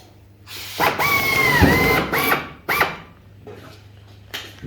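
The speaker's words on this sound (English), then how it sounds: "Now I can drill my first hole." A close drill whines up and runs for about a second and a half through sheet metal with a rising, falling pitch, then a short second burst, followed by quiet.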